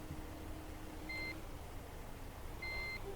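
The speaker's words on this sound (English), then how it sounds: "See, that beeping, that's the handbrake mod." Two short, evenly pitched electronic beeps from a handbrake mod in Farming Simulator 15 sound about a second and a half apart over a low, steady hum.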